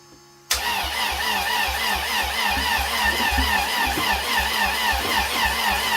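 A turbocharged Honda with a swapped B18 engine cranks and catches on its first startup, then settles into a loud, close, slightly uneven idle with a pulsing rhythm.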